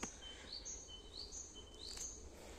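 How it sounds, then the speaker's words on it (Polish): Birds chirp and trill repeatedly in the distance in a forest, short high calls recurring every half second or so over a quiet outdoor background. "A ptaszki nam towarzyszą, słyszycie."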